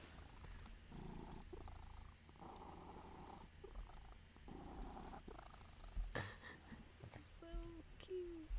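A cat purrs in a steady rhythmic rumble, close and soft, pulsing on each breath, with a few faint voices and small noises over it near the end.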